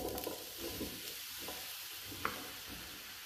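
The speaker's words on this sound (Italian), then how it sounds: "E adesso aggiungiamo in padella le melanzane." Eggplant pieces fry in a pan of extra virgin olive oil with a little garlic, giving a steady, moderately close sizzle with a few brief clinks and stirring scrapes, and no voices.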